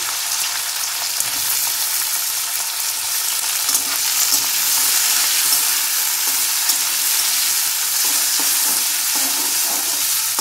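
Whole garlic cloves and chopped onion fry in a pan, giving a loud, steady, close hiss of sizzling oil that runs unbroken throughout with no voices.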